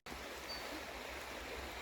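The Bradshaw Brook flows past in a steady, broadband rushing wash, continuous and even, heard from a short distance with no voices.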